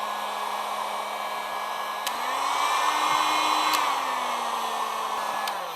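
A heat gun on its lowest setting blows a steady, close whirring hiss while warming a GoPro chin mount, its pitch rising slightly for a stretch in the middle before settling back.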